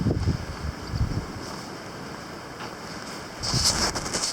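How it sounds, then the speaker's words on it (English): Cold morning wind blowing across an open mountain trail near Clingmans Dome on the Appalachian Trail, a steady broadband rush that swells louder in gusts near the start and end, with no voices. "And windy."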